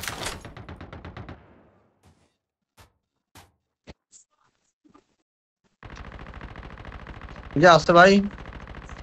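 M4 rifle fire in the Call of Duty Mobile video game: a rapid automatic burst, a pause with a few scattered single clicks, then a longer sustained burst, with someone speaking over the final stretch.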